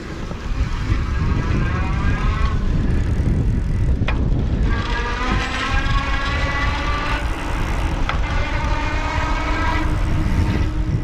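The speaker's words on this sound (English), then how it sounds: "It's a pretty zippy motor, and there is a noticeable kind of a whine" A Blix Aveny Skyline electric bike's hub motor whines while riding at assist level 3, with rising and falling tonal whine over loud, steady wind and road rush, close and continuous throughout.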